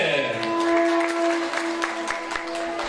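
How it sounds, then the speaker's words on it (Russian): A crowd applauds at a Uyghur beauty pageant show, the clapping steady and fairly loud beneath a sustained musical tone and a voice. "Аплодисменты!"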